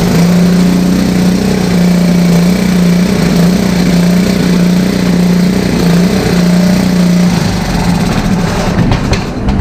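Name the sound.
small pull-start engine firing up and running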